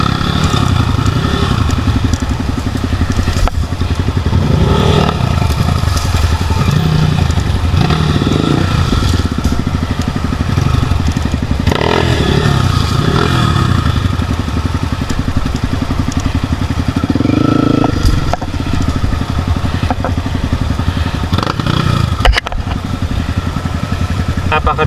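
A heavy trail motorcycle labors over rough terrain during an off-road ride, its engine revving and clattering continuously up close, with scrapes and knocks from the trail and occasional voices under the engine noise.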